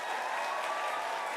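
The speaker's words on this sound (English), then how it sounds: "Big round of applause for Jake first." An audience claps for a poet at a student literature conference, a short, dense and even burst of applause with no pauses.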